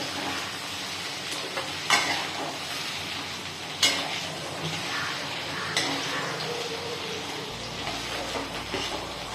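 Okra sautéing in a pan gives a steady, fairly soft sizzle, with a few sharp utensil clicks and scrapes against the pan at irregular moments.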